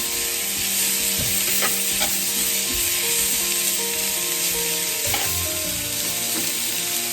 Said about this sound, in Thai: เราจะใส่มะระลงไปครึ่งหนึ่งเนาะ ผัดทุกอย่างให้เข้ากันนะคะ